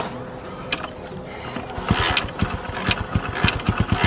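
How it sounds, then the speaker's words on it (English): A motorcycle engine catches and starts, sputtering into a fast, uneven string of pops that settles into a rapid idle rhythm after a few seconds of mechanical clatter. "the bike has started"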